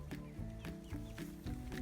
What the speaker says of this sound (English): Little chickens are out.